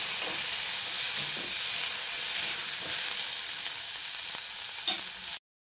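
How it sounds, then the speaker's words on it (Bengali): Chopped tomato and onion sizzle in a hot pan as they are stirred together, a steady bright frying hiss with a few soft scraping knocks, close and without talk. "টমেটোটাকে দিয়ে পেঁয়াজের সঙ্গে একবার নেড়ে চেড়ে নিচ্ছি।"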